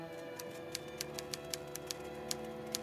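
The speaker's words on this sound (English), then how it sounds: "Some noise. Sounds like something being typed." Faint typewriter-like keystrokes from upstairs in The Visit, a VR horror game, sound as a slow irregular run of light clicks over a steady low hum.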